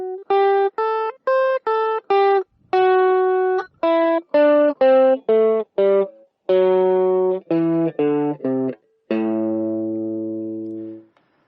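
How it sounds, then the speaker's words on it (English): Electric guitar plays a minor pentatonic scale with added Dorian notes, about seventeen clean, separate notes in a steady run, the last note ringing out long; no talking. "I'll just play the pentatonic scale and I'll add them in on the outside."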